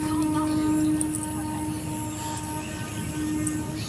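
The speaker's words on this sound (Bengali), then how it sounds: "আর ট্রেন যাচ্ছে, আওয়াজ হচ্ছে।" A train passes near vegetable fields, its steady loud rumble and droning hum filling the whole stretch.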